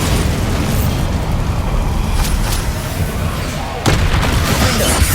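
A Bombarda blast spell from Hogwarts Legacy, a loud sustained rumbling explosion with a fresh burst near the end and a dense roaring tail.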